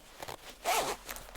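A zipper runs on tailored trousers in a quiet clothing store: one quick close zip stroke in the middle, with faint fabric handling before and after.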